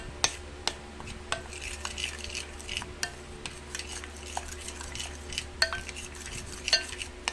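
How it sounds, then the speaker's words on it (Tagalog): Mayonnaise and a little powder stirred together in a bowl for a crab stick fruit and vegetable salad: steady scraping and clicking of a utensil against the bowl, close and fairly quiet, with no voices. "Lagyan lang natin siya ng kaunting powder. Mix lang natin."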